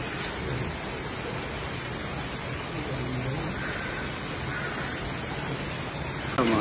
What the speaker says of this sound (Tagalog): Ito, maulan na umaga.